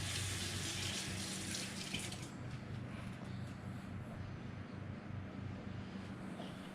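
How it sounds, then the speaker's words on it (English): Running tap water splashes over hands at a kitchen sink, a steady broadband rush that is loudest in the first two seconds and then continues more softly through to the end. "Let me just rinse off my hands."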